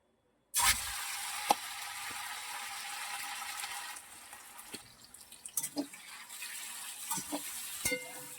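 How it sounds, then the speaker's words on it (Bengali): Chicken pieces coated in cornflour drop into hot oil with a sudden loud hiss that settles into steady frying sizzle, followed by scattered light clinks and stirring scrapes near the end. "এটা মাখানো হয়ে গেছে, এবারে তেলে ছাড়বো।"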